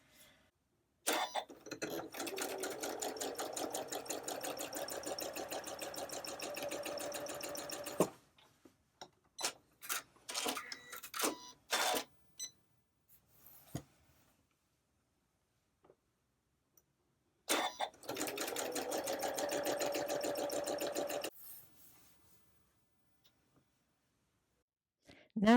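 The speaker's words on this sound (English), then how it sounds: "The next step is going to be to sew down this line and this line." A sewing machine stitching quilt block seams, running in two long close bursts of rapid, even needle clatter with short stops and clicks between, plus a few brief starts in the gap.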